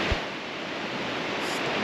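Ocean surf breaking on Third Beach along Olympic National Park's rocky South Wilderness Coast, a steady broadband wash of waves with a faint low thump near the start, wind-like and continuous.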